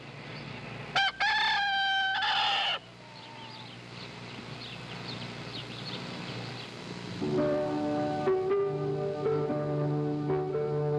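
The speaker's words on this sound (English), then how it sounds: "That's a Lancaster County, Pennsylvania rooster and some of the countryside there." A Lancaster County, Pennsylvania rooster in the countryside crows loudly once, close by, its call rising and then trailing off, and further rural sounds follow.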